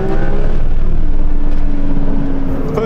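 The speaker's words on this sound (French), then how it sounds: "C'est un échappement Fabé, mais on a quand même un flat 6 Atmo, on écoute." A naturally aspirated flat-six in a Porsche 911 S/T with a Fabé exhaust holds a loud, steady engine drone throughout, with little change in pitch.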